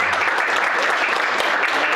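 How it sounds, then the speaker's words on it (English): An audience at a CEO summit applauds to welcome a guest speaker, with dense, steady clapping filling two seconds and a voice faintly audible underneath. "let's give him a round of applause"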